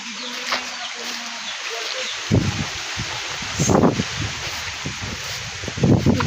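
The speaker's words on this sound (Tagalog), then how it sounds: "Lakas pa ng hangin." Gusty typhoon wind buffets the microphone in a steady roar, with rustling of banana trees and louder blustery surges now and then.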